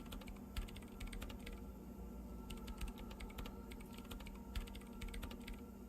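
Computer keyboard typing in the Disco Elysium video game: rapid, soft key clicks come in uneven bursts over a low, steady background hum, quiet and close, with no voices.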